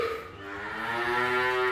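Cattle and calves held for a sacrificial livestock sale low in a long, sustained moo with a clear harmonic tone, moderately close, alone with no speech over it.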